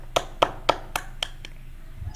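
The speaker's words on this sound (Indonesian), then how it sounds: "Bisa kalian beri tepuk tangan." Six sharp claps in a slowing, even rhythm during an online micro-teaching class, close and fairly loud, fading off at the end over faint background hum.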